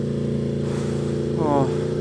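Aprilia RSV4 Factory motorcycle engine running steadily with a brief rising rev near the end, heard close under a man's speech.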